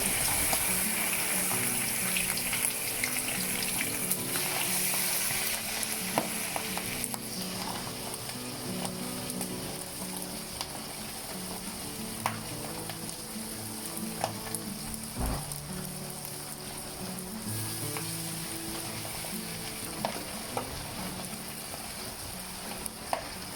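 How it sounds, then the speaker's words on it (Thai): Pork belly sizzling and crackling in a hot pan, a steady frying hiss with occasional pops and faint stirring. "สามชั้นที่เรา เตรียมไว้แล้วเนี่ยนะคะ ใส่ลงกระทะได้เลย"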